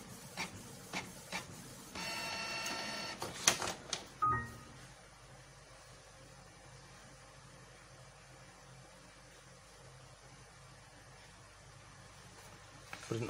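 Canon G2000-series inkjet printer producing an EEPROM printout, with short mechanical clicks and whirs, a brief feed burst and a rasping pass around the start, then a faint, steady hum.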